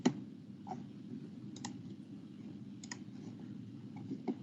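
A computer mouse clicked several times, sharp isolated ticks spaced unevenly over a steady low hum, close by and moderately quiet.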